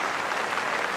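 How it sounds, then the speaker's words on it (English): A crowd at a New Zealand v India Test match in Wellington applauds a batsman walking off after a debut century. The clapping is dense, even and steady, with no pause and no voices over it. "Jimmy Neesham will walk off to applause from around the ground"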